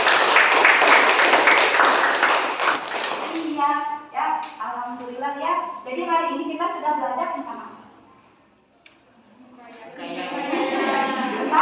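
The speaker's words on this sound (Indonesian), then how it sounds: "Berikan tepuk tangan untuk kita." Classroom applause in an Indonesian school lesson, a burst of dense clapping for about three seconds that gives way to voices speaking in a quieter room.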